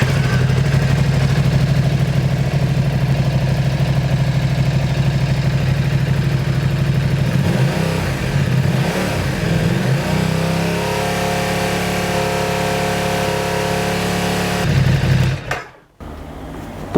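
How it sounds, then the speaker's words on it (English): A motorcycle engine runs steadily at close range, then revs up and down with rising and falling pitch before cutting off abruptly near the end, with no talk over it. "So put the multimeter across the battery after you've started the engine"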